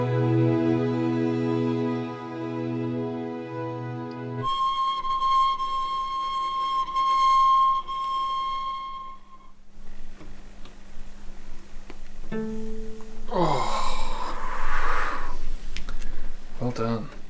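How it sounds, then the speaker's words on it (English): Sustained whistled tones with harmonics waver with vibrato, shifting pitch in sections, joined later by a sliding, swelling whistle. No talking. "Harmonic whistles was a weird one."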